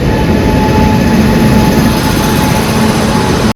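A train pulls into a station with a steady, loud rumble and roar that holds for several seconds, then cuts off abruptly at the end, with no voices.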